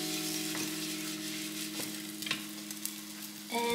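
Dashimaki tamago, a rolled Japanese egg omelette, sizzling in a lightly oiled pan, a soft steady fry with small scrapes as the egg is moved, with no voices.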